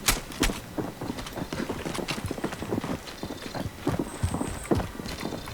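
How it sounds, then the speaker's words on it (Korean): Footsteps in a multiplayer video game, a rapid run of hoof-like clip-clop steps at a steady pace that grows louder and softer, heard up close with no talking. "야 발소리"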